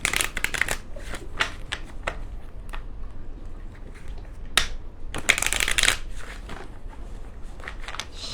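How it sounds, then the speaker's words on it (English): Angel oracle cards shuffled by hand up close, crisp papery riffles and slaps in clustered bursts with short pauses, clear and alone. "Shuffle them up good here."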